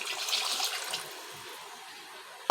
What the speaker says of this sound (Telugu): ఇప్పుడు కొద్దిగా వాటర్ వేసుకోవాలి.